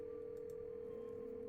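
A steady phone dial tone from the Scarlet Hollow video game, a single continuous pitch holding alone and unbroken at moderate, even loudness.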